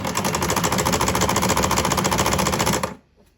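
A mechanical sewing machine runs steadily through a zigzag stitch, a loud, fast, even rattling hum held close for nearly three seconds before stopping abruptly.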